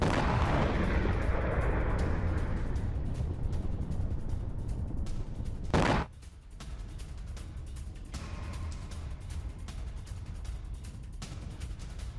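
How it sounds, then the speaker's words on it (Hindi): Blasts from news footage of strikes near the Strait of Hormuz: a dense, loud barrage of rumbling booms and cracks, a sharp burst near the middle, then a quieter rumbling background. "शॉट्स के साथ स्ट्रेट ऑफ होर्मुज में एक साथ 6 धमाके।"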